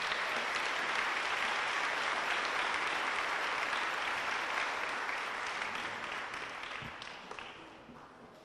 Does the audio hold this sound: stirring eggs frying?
no